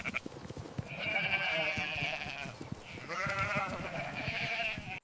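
Sheep returning to their enclosure give two long, wavering bleats, one after the other, fairly near and alone over a low rustling background.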